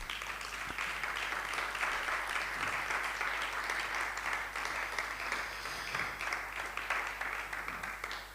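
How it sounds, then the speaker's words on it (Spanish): Festival audience applause fills a room with steady, even clapping from many hands, continuing at a moderate level for several seconds without speech. "un fuerte aplauso para ellos"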